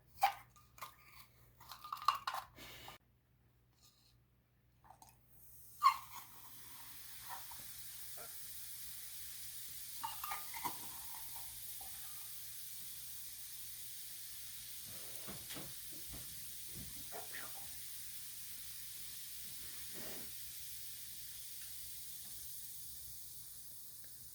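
Baking soda fizzes steadily in a container with corn kernels, a soft, continuous hiss that starts after a few scattered knocks and bumps and then holds at an even, quiet level.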